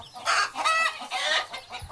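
Hens on a farm cluck loudly and close by in repeated bursts as they are lifted from their nesting cages.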